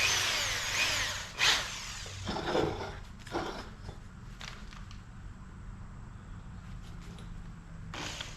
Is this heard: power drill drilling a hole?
yes